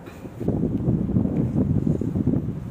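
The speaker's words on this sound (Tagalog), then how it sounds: "Ang lakas ng hangin, oh." Strong wind buffets the microphone in rough, uneven low gusts that rise and fall continuously, with no voices.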